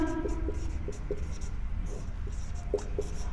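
Chalk or marker writing on a classroom board, a string of short, faint scratching taps in an irregular rhythm over a quiet room hum.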